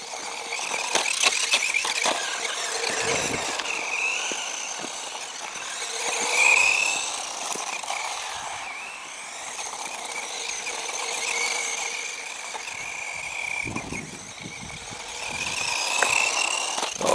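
A cheap 1:12 scale GP Toys S912 two-wheel-drive RC truggy with a brushed electric motor runs at full throttle on a weakening battery, giving a continuous high whirring whine that swells and dips, with scattered rattles and knocks.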